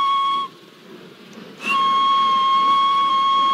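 A shrill, high steam train whistle in a Roblox game sounds, cuts out briefly to a quiet hiss, then blows again long and steady.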